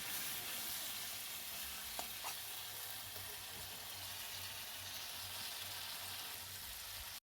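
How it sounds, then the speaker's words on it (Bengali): Mutton being sautéed in a pan for kosha, a steady close sizzle and crackle of frying meat running throughout with a couple of brief clinks of stirring, no voices. "মা কিন্তু মাটনটা কষাচ্ছে।"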